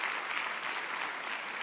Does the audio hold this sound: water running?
no